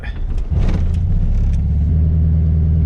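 An air-cooled VW Bug engine catches during a push start as the clutch is let out, a loud close rumbling idle that settles into a steady low drone.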